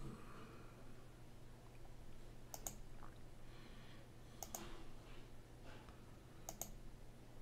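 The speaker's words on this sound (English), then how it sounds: "Just clicking through these different stocks." Computer keyboard keys and a mouse click in a few short, crisp bursts, spaced a second or two apart over a quiet background hum, with no talking.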